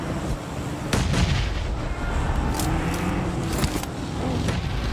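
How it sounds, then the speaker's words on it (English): Grenade explosions in the PUBG Mobile battle royale game: several loud, booming blasts arrive one after another over a steady rumble of gunfire and battle noise. "Nade after nade to keep the pressure on downhill."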